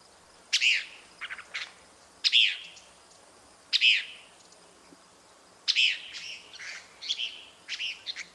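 A kingfisher or flycatcher gives its everyday call, about six bursts of sharp, chattering notes separated by short pauses, clear against a quiet background.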